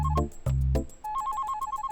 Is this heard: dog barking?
no